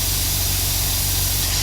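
Paint sprayer blasting a constant, unbroken flow of paint, a loud, steady close-up hiss with a low pump hum beneath, no sputtering.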